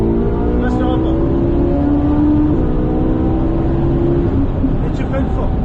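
A Ferrari 458 Italia engine on a circuit, loud and close, holding a strong droning note that climbs steadily in pitch as it accelerates, with a brief dip partway through, under a continuous roar with no break.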